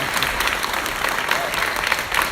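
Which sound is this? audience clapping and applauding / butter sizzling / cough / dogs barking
audience clapping and applauding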